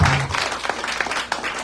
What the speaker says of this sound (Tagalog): Palakpakan po natin ang Panginoon